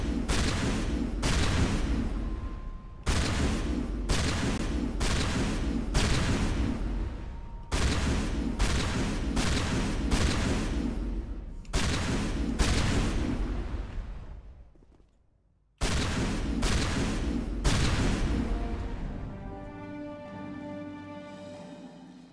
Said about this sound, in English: I got a big ass shotgun.